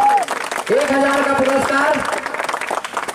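Spectators applaud at a village kabaddi final between Hajipur and Pratapgarh Stadium, steady clapping running beneath an announcer's amplified voice over the loudspeaker.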